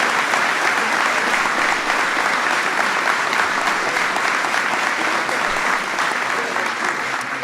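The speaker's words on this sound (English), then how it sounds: "That's worth applauding." An audience applauds steadily and loudly throughout, dense clapping filling the room with no pauses, at a ceremony honoring the 2016 NCAA champion Villanova Wildcats men's basketball team.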